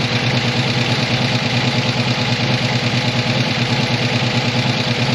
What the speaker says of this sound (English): she runs. Not bad for timing by eye.